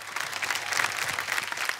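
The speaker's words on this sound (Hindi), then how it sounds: "सोनू बाजी के लिए खड़े होकर ताली बजा रहे हैं।" A studio audience at a comedy talk show stands and claps for Sonu Sood, dense, lively applause from many people rolling on evenly from start to finish.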